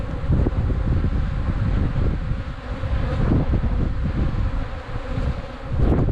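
Honey bees drone at an open beehive, a steady close-up hum with wind rumbling against the microphone and the buzz swelling and easing as insects pass.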